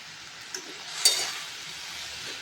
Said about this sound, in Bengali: এবার ভালো করে কষিয়ে রান্না করতে হবে